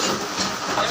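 A batasa sugar-candy making machine with fourteen lines runs in a steady, dense mechanical clatter, loud and continuous through the short moment with no pauses.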